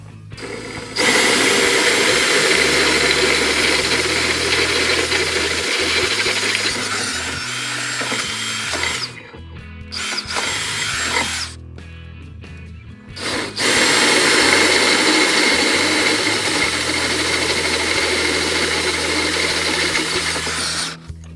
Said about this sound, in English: I'm going to drill out these holes and make them just a little bit bigger